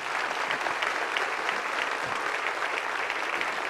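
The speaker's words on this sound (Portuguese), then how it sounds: "Vamos aplaudir esses queridos que estão chegando" A church congregation applauds steadily at a worship service, a dense, even wash of clapping that holds without a break for the whole stretch.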